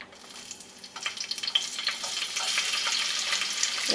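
Olive oil heating in a pan rises from near silence into a steady hissing sizzle with scattered pops, growing louder and denser over a few seconds, close and without talk.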